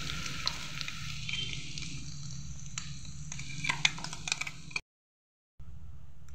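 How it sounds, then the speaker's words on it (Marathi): Flax seed chutney frying in hot oil in a kadhai, giving a steady close sizzle with soft stirring scrapes, dropping to brief silence near the end before the sizzle resumes. "आता कढईमध्ये तेल गरम करायचं आहे, तेल गरम करून घ्यायचं आणि त्याच्यामध्ये आपल्याला ही चटणी टाकायची,"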